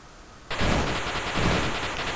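Rapid electronic gunfire from the Atari 7800 game Dark Chambers starts abruptly and continues as a loud, steady rattling stream of shots for the rest of the clip.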